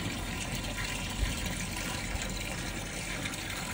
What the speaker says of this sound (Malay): Tu yang kita nampak dengar bunyi-bunyi air tu dari sini.